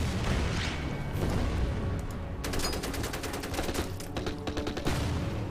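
Bombing attack in the Order of Battle strategy game, a rapid burst of crackling gunfire-like impacts and muffled booms over a steady rumbling game background, moderately loud with no speech.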